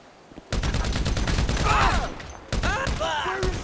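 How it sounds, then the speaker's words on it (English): Bursts of gunfire from a Grand Theft Auto 5 firefight ring out in rapid volleys, loud and close, with a short lull midway before the shooting resumes, while voices shout over the fire. "We're receiving fire!"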